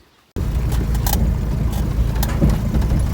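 A tractor engine used for digging potatoes on a village plot starts up abruptly and keeps running at a loud, steady rumble close by as it drives off, with no voices over it.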